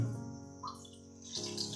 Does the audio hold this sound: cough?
no